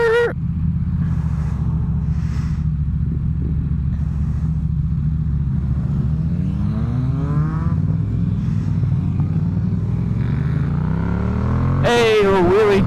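A Porsche GT4 RS engine drones steadily and loudly, its pitch climbing through several rising revs before a sharper, louder burst of revving at the very end.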